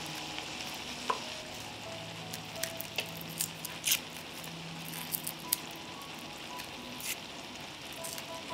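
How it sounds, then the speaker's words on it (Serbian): Zucchini frying in a pan gives a steady, soft sizzle, broken now and then by sharp clicks and taps of stirring. It is fairly quiet and close, with no voices. "Dok se tikvice prže"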